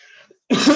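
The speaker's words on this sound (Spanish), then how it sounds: "tengo muchísima tos" A woman coughing close up, a single harsh burst after a brief quiet moment.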